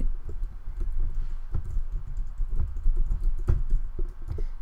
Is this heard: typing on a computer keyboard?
yes